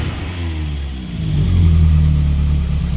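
A Caterham sports car engine, running after timing adjustments during a salvage rebuild, idles and then revs up to a steady, louder drone.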